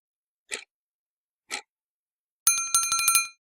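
A notification bell sound effect: two soft whooshes spaced a second apart, then a bright, close bicycle-style bell ringing in a quick rapid burst near the end.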